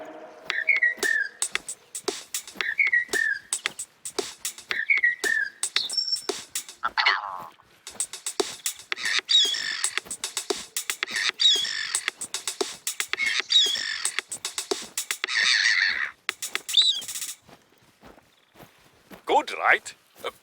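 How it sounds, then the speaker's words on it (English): A short, playful song in a video game built from recorded bird calls: repeated whistled chirps and croaky calls set over a steady clicking rhythm, some phrases sung in bursts, fairly close and clear. "We recorded the call of some birds and made this."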